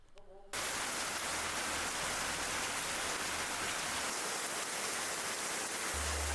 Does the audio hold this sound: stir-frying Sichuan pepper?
no